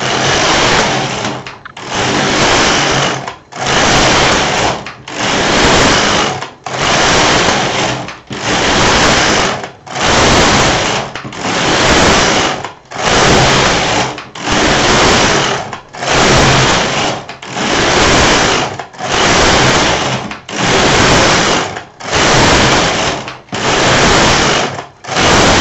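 LK 150 knitting machine with its carriage swept back and forth for rows of a pet coat, a loud, regular series of about fifteen rasping passes, each a second or so long, separated by brief pauses.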